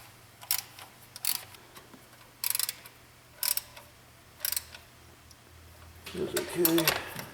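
A ratchet snugs the water pump bolts on a 2011 to 2017 Ford F150 in several short bursts of metallic clicking about a second apart over a low hum, with a voice speaking briefly near the end.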